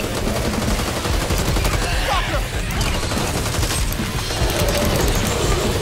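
Dense, continuous gunfire blazes through a zombie shooter game, Back 4 Blood, as rapid shots are aimed at a wall, loud and unbroken throughout with little let-up.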